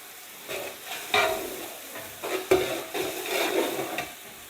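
Onion, ginger and garlic mixture stirred in a pan while making chicken malai palak, with soft scraping strokes and a gentle sizzle of frying, close and steady with no talk.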